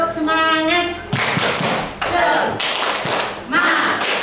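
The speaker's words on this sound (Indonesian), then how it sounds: "Oke, tepuk semangat dulu, semangat yang biasanya." A group of teachers at a parenting discussion session performs a rhythmic spirit clap, bursts of clapping and thuds in a patterned beat, with voices calling along between the claps.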